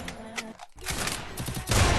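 Golden UMP bursts in a shooter video game: rapid, loud automatic fire crackling close up with a short gap, then a heavier burst at the end.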